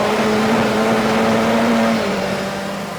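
A Peugeot 205 Turbo 16 rally car drives on a rally stage, its engine note holding a steady loud drone before easing slightly lower toward the end, with no voices.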